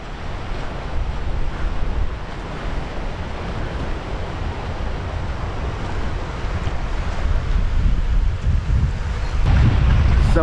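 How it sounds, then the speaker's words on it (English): Strong wind buffets the microphone on a beach while waves wash and surge steadily underneath, loud and unbroken throughout, building a little toward the end. "you can see the wind and the waves are working against us"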